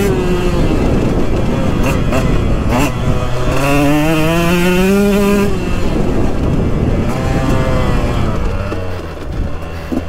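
A 2022 KTM 125XC two-stroke dirt bike with an FMF Factory Fatty pipe and Powercore 2.1 silencer revs loudly up close, its engine pitch climbing steeply through a sustained pull under wind noise while a rider talks.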